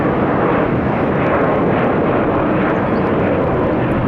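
An air transport jet passing at Tampa airport, a loud, continuous broadband engine roar that holds steady up close with no talk over it.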